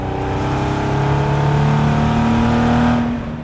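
A Chevy-powered 1971 Datsun 240Z drones under way, its exhaust holding a loud, steady cruising note with a slight rise in pitch toward the end, heard close and with no voices.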